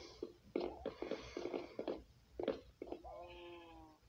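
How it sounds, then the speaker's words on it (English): Cat in the video game Minecraft gives a short rising meow near the end, following a run of quieter sounds, fairly faint against light background noise. "Hey, where's that cat?"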